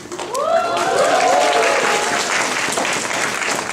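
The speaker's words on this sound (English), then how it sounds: "Give him a round of applause." Audience applause at a cosplay convention panel, a steady wash of clapping from a large crowd holding at full strength, with a few cheering voices and whoops rising through it near the start.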